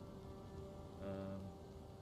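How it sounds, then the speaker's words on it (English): Rain in a Total War video game battle, a soft steady hiss of falling rain with a faint swell near the middle, quiet and with no voices. "Why do I have to fight in the rain?"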